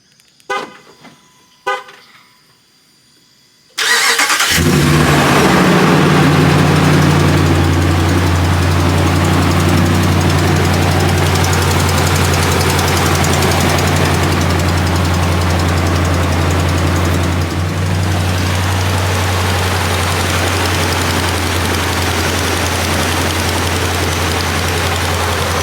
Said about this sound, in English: So when I cold start it, it's got a bit of a noise that you hear when you start it up.